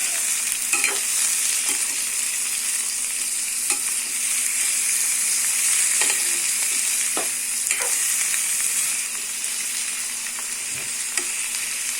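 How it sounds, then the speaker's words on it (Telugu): Ivy gourd curry being stirred in a hot pan, a steady frying sizzle throughout with repeated scraping and clinking from the spoon at irregular intervals, close and without talk. "బాగా కలుపుకోవాలి."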